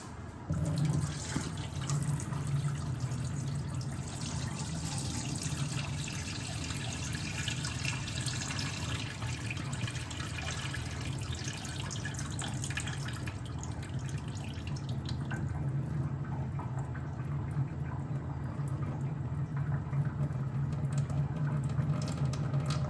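Soaking water poured off soaked rice in a pot for idli batter, a steady close trickle and splash like a running tap that continues for the whole stretch with no talk.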